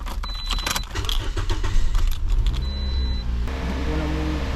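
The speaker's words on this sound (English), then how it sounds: "let me turn the car on." A car is switched on after keys jangle in the ignition, then a low engine or electrical hum settles in steadily, close and fairly loud, with electric mirror motors being tested.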